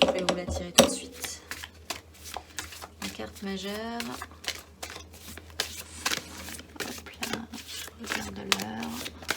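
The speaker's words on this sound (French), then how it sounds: "Je vais vous la tirer tout de suite. La carte majeure." Tarot cards are shuffled in quick, sharp, irregular clicks and riffles, with someone speaking intermittently over them at close range.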